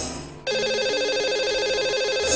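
A telephone rings at the start of a call placed during a Hindi radio show, a steady repeating electronic ring tone that starts after a brief quiet moment and continues loud and alone.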